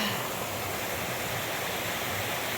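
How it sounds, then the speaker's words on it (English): Raging floodwater rushes over a beaver dam crossing on a forest trail, a steady loud broadband roar of churning water with no pauses, close by and unbroken. "this water is raging today"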